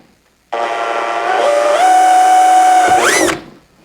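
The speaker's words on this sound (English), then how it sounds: "I'm going to go ahead and start with a 1/8 inch drill" A power drill with a 1/8 inch bit drills a pilot hole in a plastic license plate mount, whining loudly and steadily, its pitch rising as it bites in, then spinning down abruptly after a few seconds.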